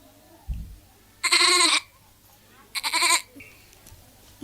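A child imitates a goat with two short, close bleats separated by a pause over a quiet background.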